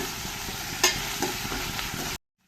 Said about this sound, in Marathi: बारीक चिरलेला टमॅटो टाकते मी